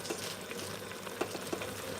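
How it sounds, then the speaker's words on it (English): Jollof rice stew base frying in a pot, a dense, constant crackling sizzle close by, with a couple of faint stirring knocks and no voices. "So our stew base has been frying for a while now"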